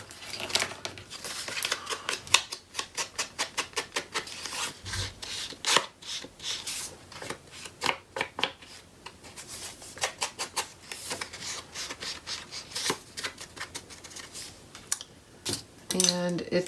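Paper being trimmed to size for a mini album craft project, a steady run of dry scraping and rubbing strokes with quick crisp cutting bursts, close and fairly quiet, with no talking.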